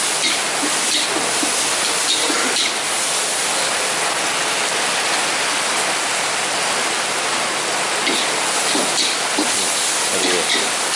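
Steady rain falls close by during outdoor cooking of Indonesian fried rice, a dense continuous hiss that holds evenly throughout with no pauses.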